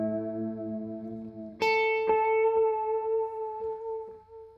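Sustained guitar tones swell and waver with a slow, rolling chorus modulation from a JHS Panther Cub pedal, then a brighter chord enters and shimmers steadily as the effect sweeps up and down.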